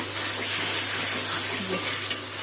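Masala paste for katla kalia sautéed in hot oil with masala-paste water added, a steady broadband sizzle with soft stirring scrapes and a couple of brief louder spatters, close and continuous.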